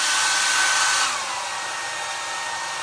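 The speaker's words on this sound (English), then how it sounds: "And get my hairdryer." A handheld hairdryer blows in a steady, loud hiss that drops slightly in level about a second in, then keeps running evenly, close by with no talking.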